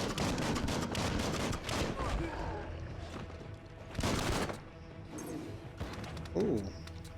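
Gunfire from a gun in a video game comes in several sharp, clustered bursts and volleys spread over a few seconds, with a voice talking among the shots.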